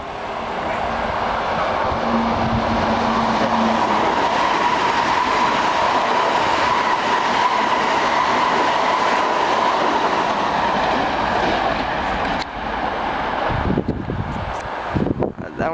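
A Long Island Rail Road express train rushes through a station at speed, making a loud, steady roar of wheels and cars that holds for most of the stretch. Brief voices can be heard near the end as the sound breaks up.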